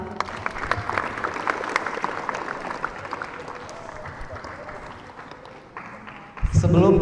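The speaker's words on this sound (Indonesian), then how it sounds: "Beri tepuk tangan." Applause from a Ramadan show audience fills most of the clip as steady clapping that slowly thins out, and then a voice comes in near the end.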